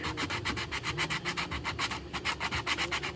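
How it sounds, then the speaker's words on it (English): Sandpaper worked over a textured plastic accessory in quick, even back-and-forth strokes, a close rhythmic rasping with no voices. "you just want to give it a good thorough sand"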